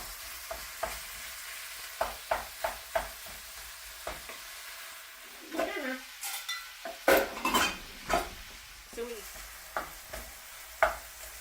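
Ground beef browning in a pan while being stirred, with a steady low sizzle under repeated sharp spatula scrapes and clicks against the pan. The stirring comes in irregular bursts and is heard alone, with no talking.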